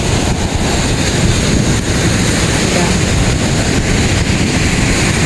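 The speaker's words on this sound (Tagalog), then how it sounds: "Grabe yung laki ng alon, no?" Big ocean waves break in a continuous, dense roar of surf, steady and loud throughout, mixed with gusty wind buffeting the microphone.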